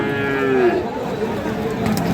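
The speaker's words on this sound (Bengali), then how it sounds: "মানসম্পন্ন গরু" A bull at a livestock market gives a single loud, close moo that trails off after about half a second, followed by quieter background noise.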